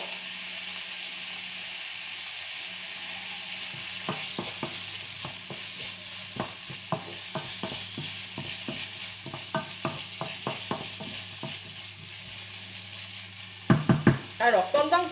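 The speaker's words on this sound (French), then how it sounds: "pendant que mes lardons et mes oignons cuisent" Bacon lardons and onions fry in a pan while being stirred, a steady close sizzle punctuated by rhythmic spatula knocks and scrapes, ending in a louder burst of clattering, with no talking.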